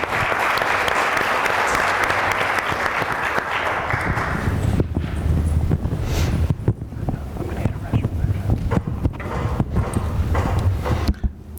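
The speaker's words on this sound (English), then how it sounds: "Big round of applause for him, please." Loud, sustained applause from a crowd at an esports business summit, fading into scattered clapping and room noise.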